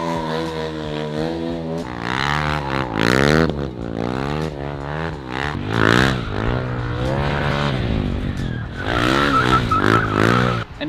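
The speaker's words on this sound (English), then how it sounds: "the basic burnout, it's actually the first step before you do the rolling burnouts." A motorcycle doing a basic stationary burnout, its engine revving hard and rising and falling in pitch with rough tire scrape, loud and continuous throughout.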